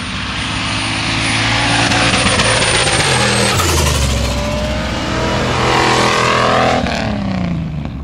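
A modified jeep engine roars loud and close at a sand drag race in Iceland, revving hard with rising and falling pitch as it accelerates and passes, the exhaust blaring throughout.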